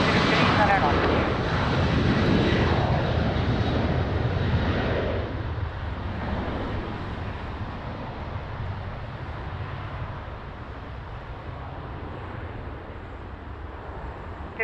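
An airliner landing on the runway at Lisbon Airport, a loud broad jet roar and rumble that gradually fades to a steadier, softer drone, heard from the spotting area.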